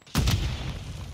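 A grenade explosion in a multiplayer shooter video game lands as a single sudden deep boom with a long rumbling tail, loud and close.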